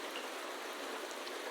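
Steady rain hisses densely in a video game cutscene, an even wash of falling drops with faint patters, no other sounds.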